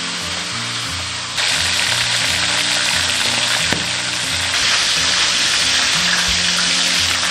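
Sea fish deep-frying in hot oil over medium-low heat, a continuous loud bubbling sizzle that swells after the first second and holds steady, with a brief clunk midway.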